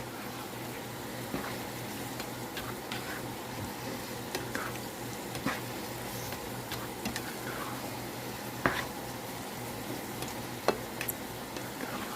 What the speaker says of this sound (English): just stir that up to let that butter soak in